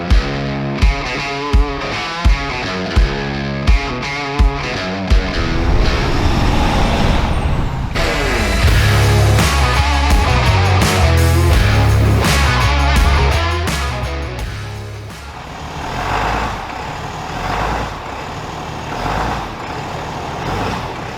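A 2023 Ram 2500 pickup with the 6.7 Cummins diesel, towing a 14,000-pound trailer, sounds evenly spaced reversing beeps at first, then a loud deep engine roar builds, holds and eases off, with rumbling revs continuing.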